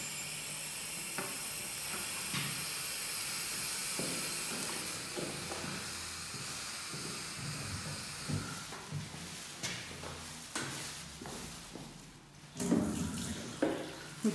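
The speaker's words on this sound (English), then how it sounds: "then we can just flush some warm water" Warm water flushed through tubing gives a steady hiss and rush of flow, close and moderately quiet, becoming broken by gurgles, splashes and small knocks in the later seconds.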